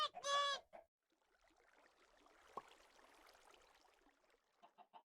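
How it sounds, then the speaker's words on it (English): A Minecraft chicken clucks in short, soft bursts near the end, after a loud squawk-like call at the start, with a faint hiss of game ambience between. "I just heard a chicken."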